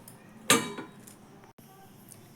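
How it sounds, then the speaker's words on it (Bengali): A lid set down over a bowl of rested dough for egg paratha, one clear clink followed by a softer knock and a final tap near the end, close and fairly quiet. "তো এবার ঢাকনা চাপা দিয়ে এক সাইডে সরিয়ে রেখে দিচ্ছি।"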